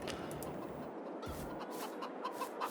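Chickens cluck in a farming video game set in Nebraska, with short soft clucks scattered over a steady background hum, continuous and fairly faint with no talk.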